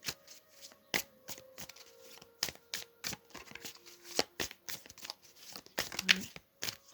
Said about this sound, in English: One more shuffle and then I'll take it from the top.